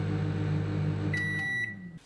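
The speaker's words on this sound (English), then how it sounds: "I think I'm just going to microwave it today, and it's going to take 8 minutes." A microwave oven hums steadily while heating shredded chicken, then gives a few sharp electronic beeps near the end before the hum cuts off.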